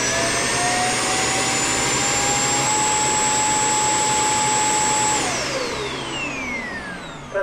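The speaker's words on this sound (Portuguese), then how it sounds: "Vocês viram aí o poder de sucção que tem esse aspirador robô" A robot vacuum cleaner runs with a loud, steady whirring suction roar and a high whine. Its pitch holds, then drops and fades slightly near the end, followed by a brief bump.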